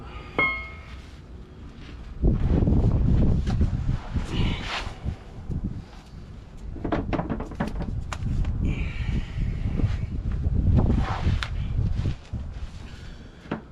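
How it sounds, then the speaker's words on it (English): Gusty wind buffets the microphone with low rumbling roars and rustling, rising and falling over several seconds, with occasional small knocks. "Unfortunately, it is quite windy today."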